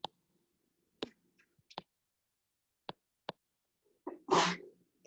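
One abrupt sneeze bursts out near the end, preceded by several scattered faint clicks and ticks in an otherwise quiet room.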